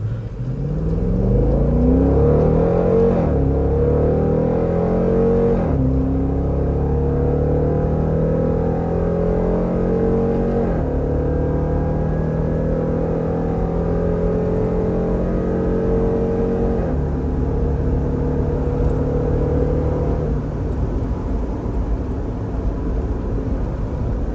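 A Dodge Durango R/T HEMI SUV's V8 pulls hard through several upshifts, the engine note rising and dropping with each gear change, a loud, steady, close rumble with no talking.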